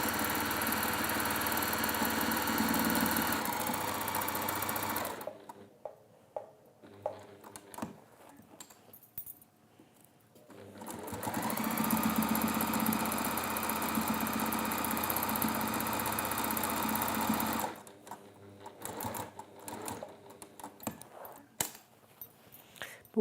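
An electric sewing machine runs in two long, steady whirring stretches while stitching fabric for an armchair tidy, close and moderately loud, separated by quieter gaps of small handling noises.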